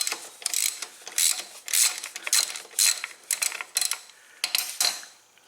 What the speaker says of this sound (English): next I am going to take my 3/8 and remove the 3 screws that hold on the guard, the oil filter guard.